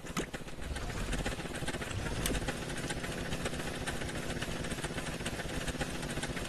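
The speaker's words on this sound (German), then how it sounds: "dann hört man, der Motor dreht höher." A car engine in the video game Scrap Mechanic, a Porsche build with a gear shift, drones steadily and fairly loud throughout, a rough buzzing hum with no talk over it.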